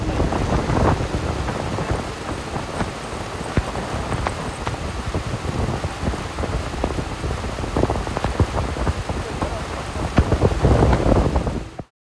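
Heavy rain pours down steadily and loudly on a river, with deep rumbles of thunder rolling underneath the dense patter.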